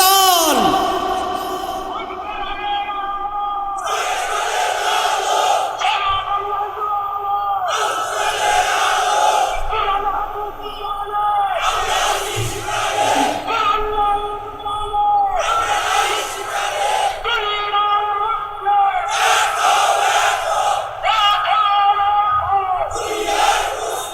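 A large crowd answers a preacher's call at an outdoor Islamic religious gathering with repeated loud, rhythmic takbir shouts, hands raised, each chant rising in bursts about every few seconds across the clip.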